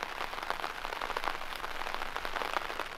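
Steady rain falling outside a car parked for camping in the mountains, a dense even patter of drops on surfaces with no voices, constant and close.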